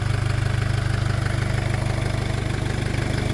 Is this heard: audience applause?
no